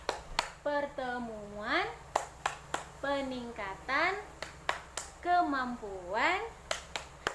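A group, apparently women at a family empowerment meeting, does the P2K2 clapping routine: quick rhythmic hand claps punctuate a sung, chanted slogan, with voices carrying over the claps throughout.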